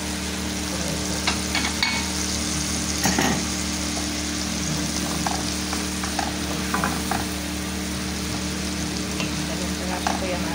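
Two sliced tomatoes sizzle and crackle steadily in a hot pan for a home-cooked meatless spaghetti, with occasional scraping clicks from stirring over the continuous frying hiss.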